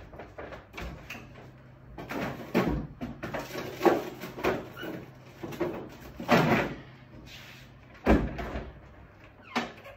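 A freezer door opens and closes as a lidded banana-infused bourbon container goes inside, heard as several bumps, clunks and knocks spread over a few seconds, close and moderately loud, with no talking.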